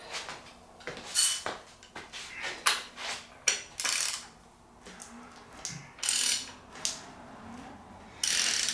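Hand crank turning over a Ford 302 V8 with a freshly installed camshaft and cylinder head, making bursts of ratcheting, clicking metal mechanism noise in uneven spurts with short pauses, close by.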